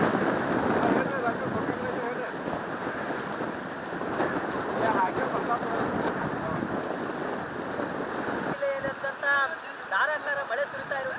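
Torrential monsoon rain pours down in Belagavi amid Ghataprabha river flooding, a loud, dense, unbroken hiss and roar close by, with a voice starting to talk near the end.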